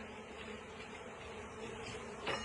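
Steady, dense buzzing of many bees swarming close by at an open hive during an inspection with a smoker, with a brief sharper rustle near the end.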